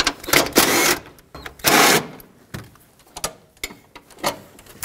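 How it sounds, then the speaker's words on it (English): A hand tool loosens two 13mm bolts on a 2013-2020 Nissan Pathfinder during a starter replacement, giving several close bursts of rapid ratcheting clicks separated by short pauses. "Let's unbolt these two 13mm bolts."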